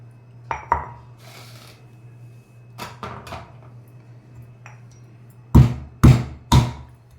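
A knife cuts fresh amla (Indian gooseberries) into pieces on a board, giving several sharp chopping knocks close by, sparse at first and then three heavy strikes near the end, over a steady low hum.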